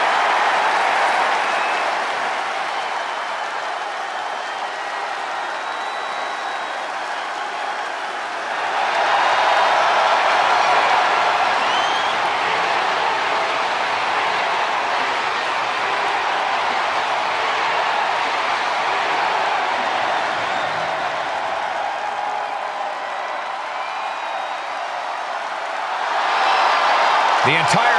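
Arena crowd in the WWE 2K24 video game during a Damian Priest vs Jey Uso World Heavyweight Championship match at Backlash, a continuous roar of cheering and applause that surges loud twice, with no talk over it.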